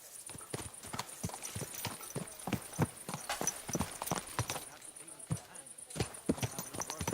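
Rapid, irregular clip-clop of horse hooves on a hard surface in Kingdom Come: Deliverance II, continuous and close, with a high electronic tone ringing over it.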